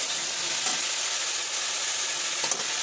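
Ridge gourd frying in hot oil with a little turmeric, giving a steady, close hiss of sizzling throughout with faint scraping of stirring and no talking.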